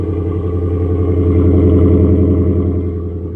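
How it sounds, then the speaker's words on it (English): A 2016 Ford F-150 with a Coyote 5.0L V8, EDGE tune and full dual exhaust idles loud and close after starting, a steady deep rumble with slight swelling throughout. "Nice full exhaust system. Starts up."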